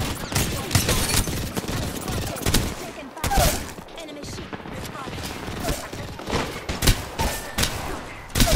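Rapid gunfire crackles through a team-based video game firefight, with overlapping bursts and thumping impacts filling the mix and voices calling out beneath the shooting.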